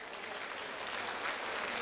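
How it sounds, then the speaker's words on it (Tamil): Large crowd at a gathering of over two thousand people applauding, a soft, distant, even wash of clapping throughout the short stretch. "கைத்தட்டலாமே."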